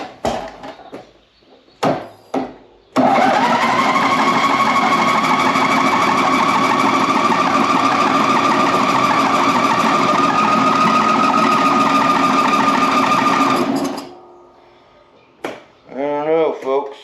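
A John Deere Z225 riding mower with excess gas in its oil starts up after a few short cranking attempts, then runs loud and close at a steady drone for about eleven seconds before cutting off.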